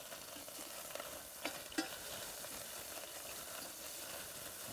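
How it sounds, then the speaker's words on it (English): Smoked bacon lardons sizzle steadily while frying in a pan, a continuous close hiss with a couple of brief louder pops and stirring scrapes partway through, no talk. "Music to your ears when you hear that sizzle."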